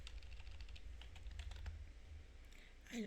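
Keyboard typing at a computer while entering text into a design program, a short run of light key clicks heard faintly over a steady low hum, ending with a brief brighter rustle.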